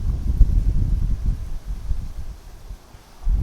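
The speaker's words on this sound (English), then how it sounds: "Pretty windy out here" Gusty wind buffets the microphone with low rumbling bursts that swell and ease, briefly dropping before picking up again.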